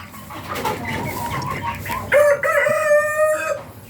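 A rooster crows loudly and close in a chicken coop, its drawn-out call rising over a background of clucking hens, with no talk.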